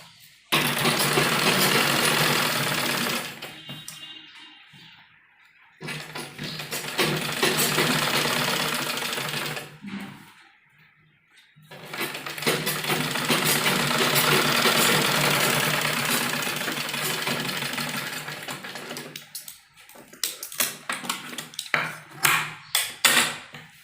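Sewing machine stitching lace onto a bell sleeve of an umbrella frock, running in long loud continuous bursts of rapid mechanical whirring, separated by short pauses and ending in a few quick stop-start runs.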